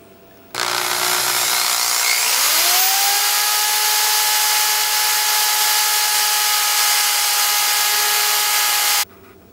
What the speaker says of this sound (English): I've never used this drill bit sharpener before, so we're going to do a little testing and see how it works.